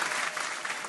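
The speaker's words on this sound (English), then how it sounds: "Y'all was late on the clap, but it's all good." A radio show audience claps in the studio, a short burst of steady, fairly faint applause from a small group.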